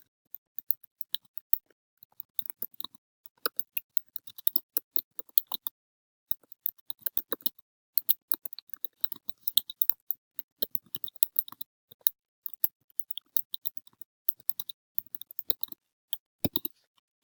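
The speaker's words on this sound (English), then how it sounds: "So I'm going to go ahead and type my statement." Typing on a computer keyboard, quiet, close-up clicks in irregular bursts with brief pauses between them and no talking.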